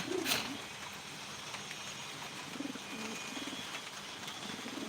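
Pigeons coo in a rooftop loft where young birds are kept, a soft repeated low cooing heard moderately close over a hissy background, with a brief sharp click near the start.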